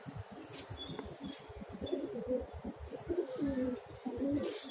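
Pigeons in a loft coo steadily in low, rolling throaty calls, several birds overlapping close by, with occasional faint chirps and a brief flutter.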